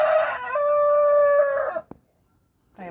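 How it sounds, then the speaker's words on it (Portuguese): Backyard chickens: one long, loud, drawn-out crowing call close by, then a short sharp peep, a silent pause and the start of another call. "Essas galinhas, gente, ela não choca, é daquelas que só bota."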